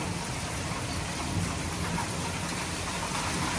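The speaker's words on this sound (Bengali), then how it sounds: "অনেক ঝড় হইতেছে অনেক ঝড় হইতেছে" Steady, dense rain pours down without letup in a storm with lightning, a heavy continuous hiss with a low rumble underneath, no voices present.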